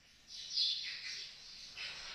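Baya weaver bird near its woven nest, giving a few faint, thin high chirps in a quiet setting.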